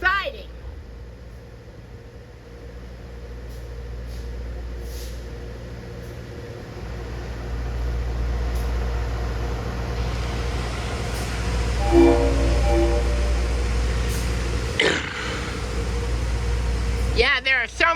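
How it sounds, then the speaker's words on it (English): A train rumbles along the railway near a siding on a busy line, a steady low drone with brief horn-like tones midway and rising noise toward the end, with people talking over it. "Yeah, there are so many trains running today."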